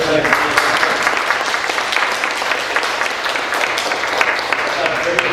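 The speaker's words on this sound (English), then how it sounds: "can we give a round of applause to the councilman also for this one?" An audience at a civic leadership forum applauds a councilman with steady, dense clapping throughout, loud and close, with voices mixed in.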